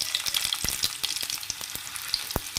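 Mustard seeds, cumin and four garlic cloves fry in hot oil on a low flame with a bright, steady sizzle, scattered pops and crackles, close and alone.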